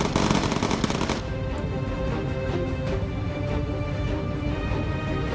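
Gunners on a bomber in the game Bomber Crew fire their guns. A dense, loud burst of rapid gunfire opens the clip and drops off after a second, leaving steady engine drone and scattered distant shots.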